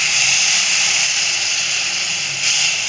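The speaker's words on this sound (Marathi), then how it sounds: "आता आपण त्यात टाकतोय थोडंसं पाणी" Water is poured into a hot kadhai coated with stuck-on fried residue while cooking a jackfruit curry, setting off a loud, continuous sizzling hiss of steam close by that holds steady throughout, with no talking over it.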